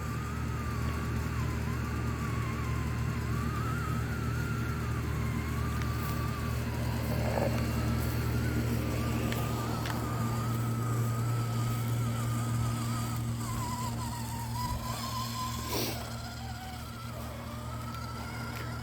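Redcat Gen8 RC truck driving a dirt course outdoors, a steady whining electric motor pitch rising and falling with throttle over constant low hum and wind, with a brief sharp skid or scrape near the end.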